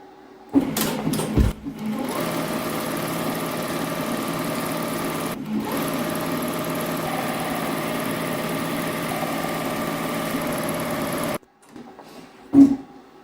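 A computerized embroidery machine stitches a flower appliqué onto a denim jacket, a steady, even mechanical whirring hum that runs continuously for about eleven seconds, then stops, leaving only a faint thump or two.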